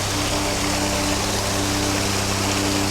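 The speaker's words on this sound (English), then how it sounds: "What a unique looking waterfall here with the" A unique-looking waterfall with a log on it in the Loyalsock area, heard as a loud, constant broadband rush of falling water close by, with no speech.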